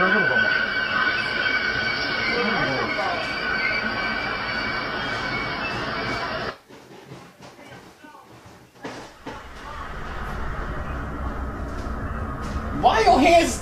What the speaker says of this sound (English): I know the train is gonna pass